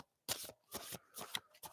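A deck of cards is being shuffled in several quick riffling bursts with short pauses between them. The sound is close and soft, with no talk.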